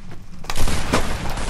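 A quick burst of gunfire in the video game Fortnite, a few sharp close shots with a short rattle, heard on its own with no talking.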